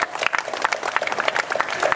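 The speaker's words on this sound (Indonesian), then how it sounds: "Kita beri tepuk tangan." An audience claps during a book handover, a short burst of dense, scattered applause from a room of people with faint voices mixed in.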